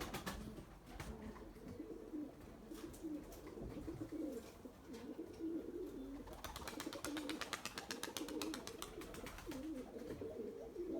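A white pigeon coos softly in a low, repeated rolling call, faint and fairly distant, with bursts of rapid fluttering in the middle stretch and no voices over it.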